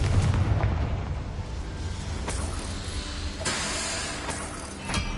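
Confringo blasting spell in Hogwarts Legacy, heard as a heavy rumbling explosion that settles into a steady roar, followed by several sharp, close bursts and pops spread through the rest of the stretch.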